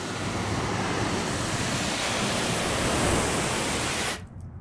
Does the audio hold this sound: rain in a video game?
no